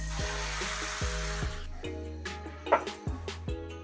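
A brief burst of hissing sizzle as ingredients hit hot oil and butter in a pan, cutting off quickly, followed by clinks and a low pulsing hum.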